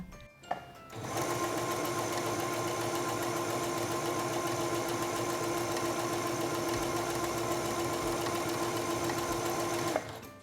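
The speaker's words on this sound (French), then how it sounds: "abaissez le pied presseur et commencez à coudre." A Singer Stylist 7258 sewing machine stitching a serpentine stitch runs steadily for about nine seconds, its fast even mechanical whir and needle chatter close and alone, starting and stopping abruptly.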